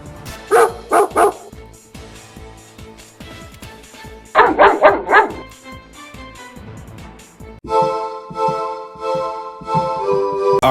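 Enemy patrol dogs in the video game Metal Gear Solid Delta bark in two sharp bursts of several yaps each, loud and close, mixed with game sound effects and a sustained tonal music cue toward the end.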